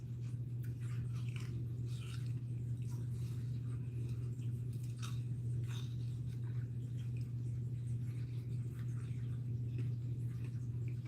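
Close chewing of a crunchy cookie dough Oreo cookie, with irregular crisp crunches over a steady low hum and no talk.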